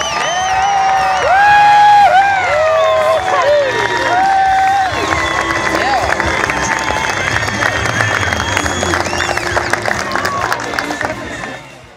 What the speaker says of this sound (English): I want you to give that greatest flag in the world the biggest round of applause you can.